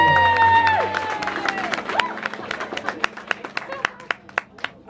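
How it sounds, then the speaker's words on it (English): Guests at an engagement party give a round of applause that thins out into scattered individual claps, with a brief voice and background chatter at the start. "So give them a huge round of applause as well."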